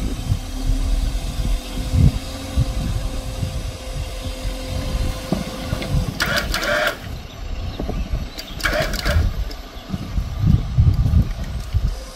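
A Jeep Gladiator stuck at a cliff edge, its engine idling low and rough while it eases backward, with gusty wind noise and brief bursts of rattling over it.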